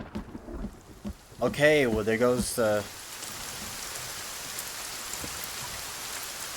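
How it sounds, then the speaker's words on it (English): Steady rain hisses across the scene during a stormy spell in Sons Of The Forest, a dense even wash of falling water after someone briefly speaks over it. "Rain, rain, go away, come again another day."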